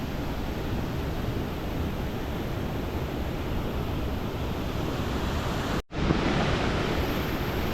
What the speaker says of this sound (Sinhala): ඒක නිසා දියඇල්ලේ වතුර අද ගොඩක් හොඳට තියෙනවා